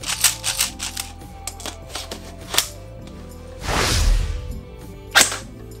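KWA Ronin TK.45c airsoft pistol magazine being loaded, with a series of close plastic clicks and rattles, a longer whooshing rustle in the middle and one sharp snap near the end, over a steady low background hum.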